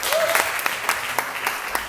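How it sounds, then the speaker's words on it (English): Audience applause for a panel at a youth business symposium, dense steady clapping filling two seconds at moderate loudness with scattered sharper claps. "A round of applause for them,"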